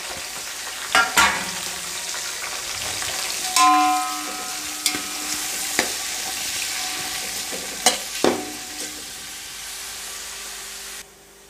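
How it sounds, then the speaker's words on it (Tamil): Onions with mint and coriander frying in oil until golden for mushroom biryani, a steady sizzle punctuated by several sharp spatula knocks and scrapes, near and loud, ending abruptly. "போட்டு நல்லா பொன்னிறமாக வதக்கிக்கலாங்க."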